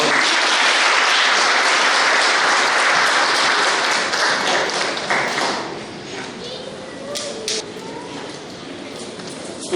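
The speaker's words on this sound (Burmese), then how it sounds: "လက်ခုပ်ပြန်တီးပေးပါ" Audience applause at a gathering, a loud sustained wash of many people clapping that thins out after about five seconds into a few scattered claps amid murmuring voices.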